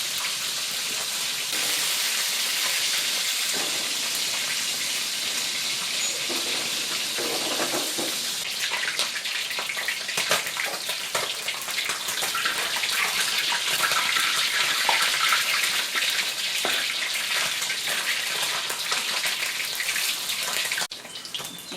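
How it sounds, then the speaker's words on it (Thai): Barramundi frying in hot oil in a pan, a loud continuous crackling sizzle that carries on steadily throughout with no voices. "เวลาเราทอดปลา ปลาเขาจะได้ไม่ติดกระทะนะคะ"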